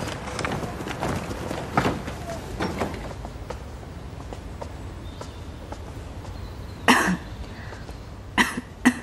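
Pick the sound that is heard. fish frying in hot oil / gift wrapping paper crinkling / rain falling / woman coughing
woman coughing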